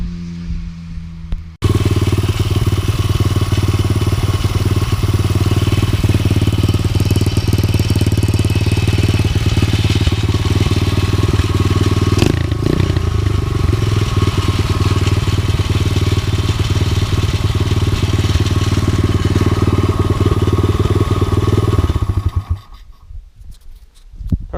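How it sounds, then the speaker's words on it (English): An SSR 110 motorcycle engine, its carburetor freshly cleaned, idles on its own in a steady, loud, even putter for about twenty seconds, then cuts out abruptly. "We're gonna try and get it so she'll idle by herself without any assist from the throttle"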